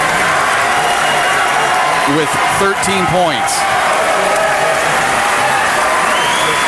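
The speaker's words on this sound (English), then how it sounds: "Peyton Radliff gets a round of applause from the Richland crowd" Crowd at a high school basketball game in Richland applauding a player leaving the court: steady clapping and cheering fills the gym throughout, with a few sneaker squeaks and a commentator talking over it.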